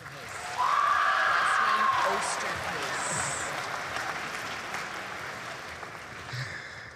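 A university convocation audience applauds a graduate, a wide hall of clapping that jumps up quickly, stays full for a couple of seconds and slowly thins. A tonal sound rises briefly above it early on.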